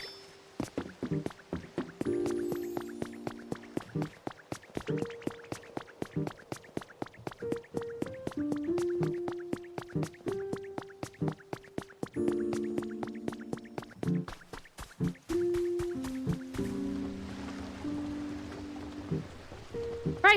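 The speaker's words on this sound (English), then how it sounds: "Yay, the water wheel's running." A video game water wheel turns in flowing water, giving a rhythmic stream of wet clacks and drips, regular and close, over soft tonal background music.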